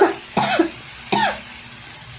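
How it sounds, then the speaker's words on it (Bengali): Two sharp coughs from one person, close and loud, spaced under a second apart with a short rasp trailing each. "আবার কাশি হয়ে গেছে।"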